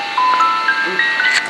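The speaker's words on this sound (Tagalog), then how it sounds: "Tumunog yung REM pad." A REM pod ghost-hunting device at Mount Davis, Hong Kong, sounds a steady electronic alarm of sustained beeping tones that step and waver in pitch, loud and close, with a voice briefly underneath.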